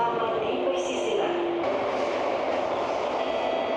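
Inside a metro train in Singapore, a steady broadband rumble and hiss of the carriage running on the rails fills the clip, loud and continuous, with a brief tonal whine and a faint chime partway through.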